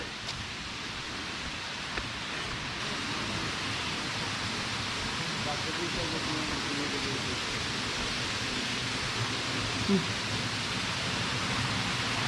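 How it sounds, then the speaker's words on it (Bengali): Steady broadband rush of flowing water from a jungle waterfall, a constant splashing wash with no distinct breaks, fairly close and even throughout. "আপনারা কি ঝর্ণার কলকল শব্দ শুনতে পাচ্ছেন?"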